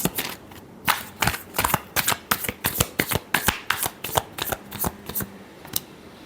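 Tarot cards shuffled by hand, heard as a quick run of sharp riffling bursts in an uneven rhythm, close and crisp, with no speech.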